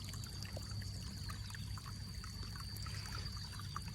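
Groundwater from a solar-powered pump pours steadily into a flooded rice field of young seedlings, a continuous trickling, splashing flow that stays constant throughout with a low hum underneath.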